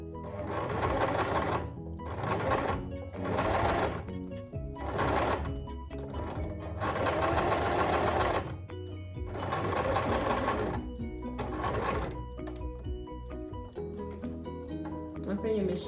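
A sewing machine runs in repeated bursts of rapid stitching while a drawstring ponytail is sewn, each run a second or two long and separated by short pauses, with a person talking over and between the runs.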